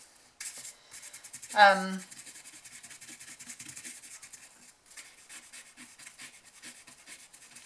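A brush rubs excess material off a hand cream gift bag with steady, soft scratching strokes, fairly close, with a brief louder scrape near the start.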